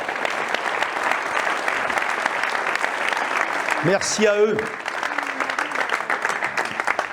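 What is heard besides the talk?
audience applauding the volunteers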